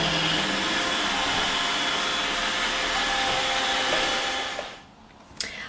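iRobot Roomba 880 robot vacuum cleaner runs with a steady, close whirring motor hum that holds for several seconds, then drops away abruptly, leaving quiet with a faint click.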